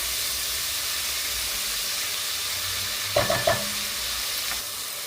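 Tomatoes and onions saute in a pan for Sri Lankan devilled prawn, with a steady sizzling hiss broken midway by a few brief scraping stirs.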